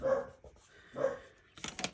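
A dog indoors barks at people outside, two sharp close barks followed by a quick burst of softer yips and panting, with no talk.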